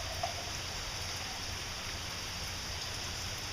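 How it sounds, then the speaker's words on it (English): Rain falls outdoors in the morning, a steady, even hiss of drops hitting surfaces that runs throughout at a moderate, constant level with no voices. "I'm hoping the rain will take a chill pill."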